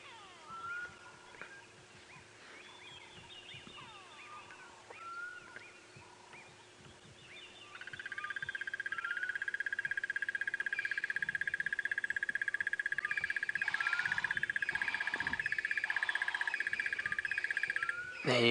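A crested barbet gives a long, sustained trilling call that runs unbroken for about ten seconds, heard outdoors at sunrise on safari amid frog croaks and insect buzz, fairly close.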